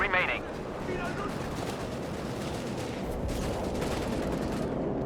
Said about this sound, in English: Quick artillery strikes there, ripping through the ranks of HeartlessJ's Panzer Grenadiers